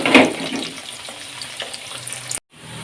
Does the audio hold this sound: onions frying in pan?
yes